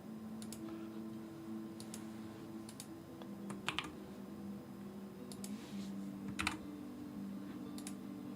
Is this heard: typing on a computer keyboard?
yes